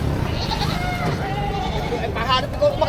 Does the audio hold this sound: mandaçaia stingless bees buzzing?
no